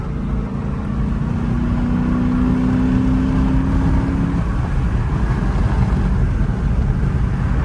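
A Dodge Charger R/T with an overheating problem driving along, its engine a steady loud low drone with a faint rising whine under road noise, no voices.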